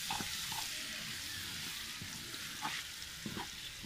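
Green chilies and garlic frying in oil in a pan, giving a steady close sizzle with a few soft stirring scrapes, no voices.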